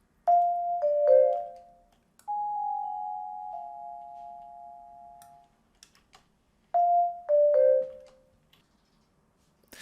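Virtual vibraphone with the sustain pedal pressed, a few soft mallet notes that ring on and overlap, one long sustained tone fading slowly, then more struck notes, faint and sparse with silence between.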